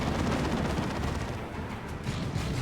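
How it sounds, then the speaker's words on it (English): Heavy weapon fire, including lascannon shots, from a large-scale battle in the Warhammer 40,000 strategy game Dawn of War 2, Space Marines against Eldar: a dense, continuous roar of blasts and explosions at steady loudness, with no voices. "Avatar taking las cannon shots."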